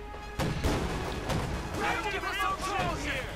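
37mm flak gunfire in Company of Heroes 2, heard as a few sharp booming shots among battle noise, with voices and busy game sounds around them.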